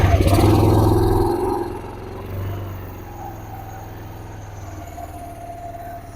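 A 1991 Kawasaki Bayou ATV idling with its choke off, a low steady engine rumble that is louder at first, then settles into an even, moderate idle with no talk over it.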